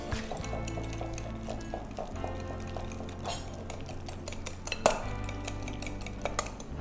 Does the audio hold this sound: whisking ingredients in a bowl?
yes